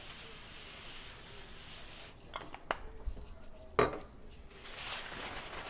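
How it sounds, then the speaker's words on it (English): Pam cooking spray hissing onto a sheet of foil in a home kitchen, a steady broadband spray for about two seconds, followed by faint clatters and rustling of foil and pans. "I am going to spray my foil with Pam"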